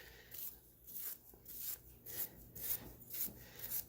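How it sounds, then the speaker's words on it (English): Quiet, rhythmic back-and-forth scrubbing of silver wires with a Brillo pad, about eight steady rasping strokes in a row, heard alone and up close. "with that Brillo pad, we're going to scuff them up"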